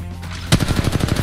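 Rapid automatic gunfire from Apex Legends Mobile erupts after a brief quiet start, a loud close burst of evenly spaced shots rattling to the end.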